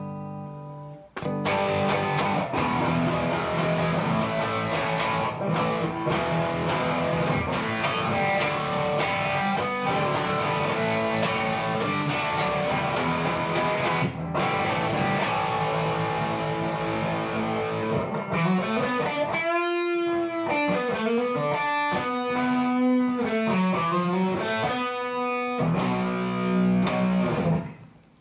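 An electric guitar plays through heavy amp effects, first a distorted rhythmic passage, then warbling, swooping tones that bend and wobble, fairly loud throughout.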